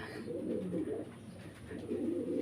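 Gannadino fancy pigeons on a pigeon farm coo in low, throaty, rolling murmurs, several birds overlapping in a steady, close chorus with no break.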